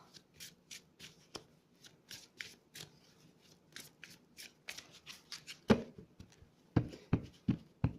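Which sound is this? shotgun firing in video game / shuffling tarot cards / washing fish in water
shuffling tarot cards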